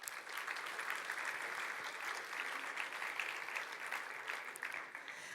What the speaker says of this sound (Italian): Fatevi davvero un grandissimo applauso.